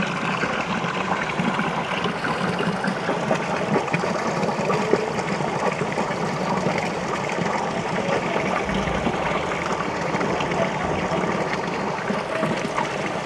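Water from the White Spring in Glastonbury pours steadily from a spout, a close, continuous rushing splash that stays even throughout with no voices.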